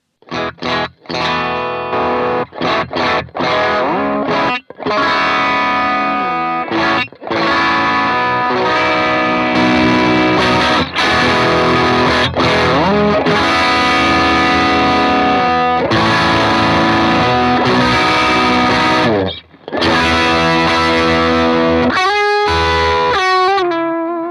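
Electric guitar through an overdrive pedal into a clean boost, distorted tone playing chords and riffs, loud and continuous with brief pauses.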